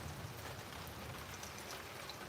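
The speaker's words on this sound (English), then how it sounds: "Comes the rain even harder." Heavy rain pours down steadily during an outdoor grilling session, a faint, even hiss of drops with no voices over it.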